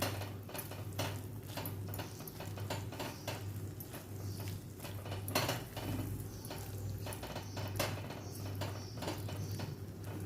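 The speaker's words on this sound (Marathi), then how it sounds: "हे बघा छान असे मसाले हे आपण आता परतून घेऊया" Red chilli and Malvani masala sautéing in oil in an onion-tomato paste, faint sizzle with repeated light scrapes and clinks of a spoon against the pan, close and quiet, with no voices.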